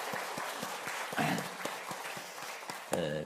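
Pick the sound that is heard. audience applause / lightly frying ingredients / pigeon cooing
audience applause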